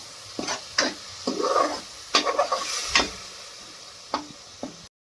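Masala spices cooking in a pan for a Punjabi-style gobi matar bhurji, with intermittent stirring scrapes and soft bursts of sizzle across a few seconds, close and fairly quiet, with no talking.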